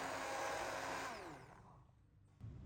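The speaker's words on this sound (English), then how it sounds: "Then I blend this mixture until completely smooth." A blender whirs loudly through a cooked tomato mixture, then the motor winds down and fades over a couple of seconds, with a faint knock at the end.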